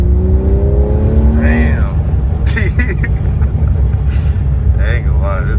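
A Mercedes C43 AMG with a turbo V6 rumbles and accelerates with a steady, loud engine drone inside the cabin while people talk and exclaim over it.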